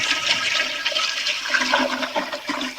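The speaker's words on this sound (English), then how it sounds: "I'm going to keep flushing" A toilet flushes over and over, giving a loud, close, continuous rushing and gurgling of water that fills the whole stretch with no voices.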